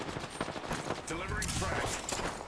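Rapid bursts of gunfire in an Apex Legends match, dense crackling shots with a fusillade feel, layered over game sounds and partly masked by talking.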